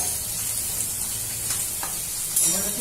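Potato pieces fry in a pan for sabudana khichdi, making a steady close sizzle with light stirring scrapes and a slightly louder clink near the end.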